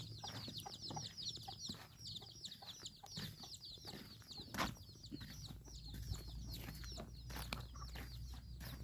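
Chickens on a rural Thai homestead cluck and chirp continuously, with quick bursts of wing flapping and small knocks among them, a steady, fairly quiet flock sound with no talk.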